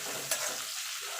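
Chopped medium tomato hits hot oil in a pan and sets off a steady, close, hissing sizzle that holds without a break for about a second.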